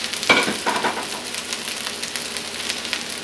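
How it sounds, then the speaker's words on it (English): Rice and vegetables fry in a pan for pineapple fried rice, a steady close sizzle with stirring scrapes and a louder burst at the start. "we'll just fry this up for a little bit until it's got some color to it"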